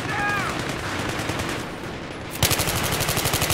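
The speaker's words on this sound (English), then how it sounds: "someone is spamming it with the shotgun" Rapid shotgun gunfire in Battlefield 3 close-quarters combat, a burst of repeated shots fired close by over steady background noise.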